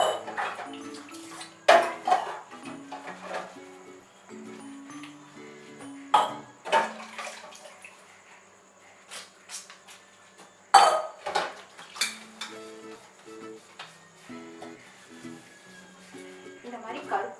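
Greasy steel kitchen utensils and tumblers are scrubbed with a fibre scrubber, giving close, intermittent metallic clinks and clatters. Someone talks over the scrubbing.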